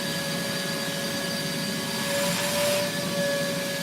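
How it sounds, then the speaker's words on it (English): A vacuum cleaner runs steadily nearby in a workshop during a ball drilling session, a continuous broadband whoosh with a faint tonal whine that swells briefly midway. "I'll wait for the vacuum."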